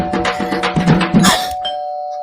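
A doorbell rings loudly at a home door with a clear ding-dong chime pattern, several tones ringing through about a second and a half before fading.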